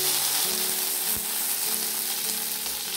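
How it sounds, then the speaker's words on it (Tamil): Curry leaves and dried red chillies sizzle and crackle in hot oil as a tempering for rasam, a steady close frying hiss with scattered pops and no talk. "இப்போ எண்ணெய் நல்லா சூடாயிடுச்சு. கடுகு, உளுந்து போட்டுட்டு நல்லா பொரி வந்தோடனே"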